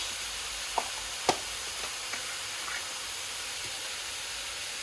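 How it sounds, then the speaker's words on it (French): Leeks fry in a pan with a steady, dense sizzle and hiss close by, broken by a few small clicks and pops. "mes poireaux commencent à bien dorer là. Je sais pas si on va m'entendre avec le bruit"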